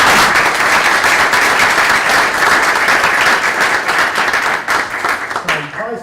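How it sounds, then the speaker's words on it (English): Audience applause closes a panel session on cyber threats, a loud dense wash of clapping that holds steady and then thins out near the end as a voice begins. "Would you join me in a round of applause"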